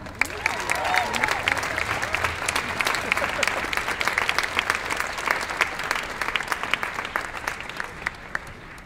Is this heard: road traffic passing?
no